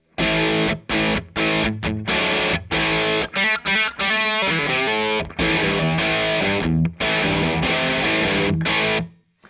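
An electric guitar through a Red Witch Famulus distortion pedal's first gain circuit plays choppy riffs and chords with gritty, biting overdrive, abrupt stops between phrases and a long sustained chord near the end.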